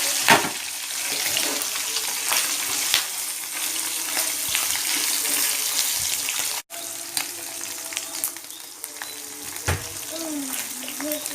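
Pounded beef pieces for dendeng balado fry in hot oil, giving a loud, continuous crackling sizzle with scattered pops and a few clinks of utensils, and no talk over it.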